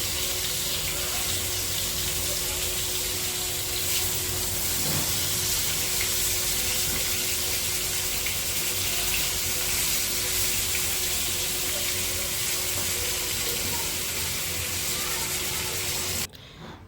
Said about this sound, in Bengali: অপর সাইড মাছগুলো ভাজার জন্য এক এক করে উল্টিয়ে দিচ্ছি।